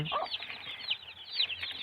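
Frightened chicks, young chickens kept near a lamp in winter, cheep and squawk in a fast, shrill chorus, with a few louder calls standing out close by.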